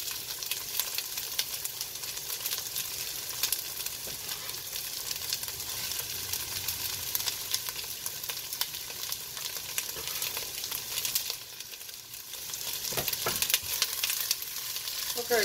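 Finely chopped fennel and onions sauté gently in a stovetop Dutch oven for an Italian-style chicken soup, giving a close, continuous hissing sizzle with a brief stir and clatter near the end and no talking.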